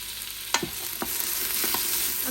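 Chopped onion sautés in an Instant Pot, a soft steady sizzle with a few distinct clicks and scrapes of a utensil stirring, close and alone without talk.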